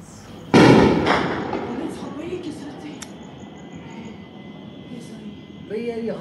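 A single loud, sharp blast rings out in Jammu during a Pakistani attack and city blackout, then fades into a lingering rumble of background noise while voices talk nearby.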